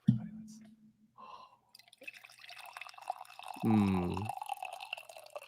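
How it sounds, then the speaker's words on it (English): Coffee is poured into a cup, heard as a short, rising filling gurgle in the middle of a quiet stretch. A few faint drips and small sounds come before it. "so I started pouring"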